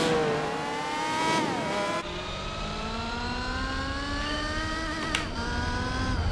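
German touring car engines scream around the Nordschleife in Gran Turismo 4, loud close revving with sharp upshifts that drop the pitch before it climbs again steadily, no voices over it.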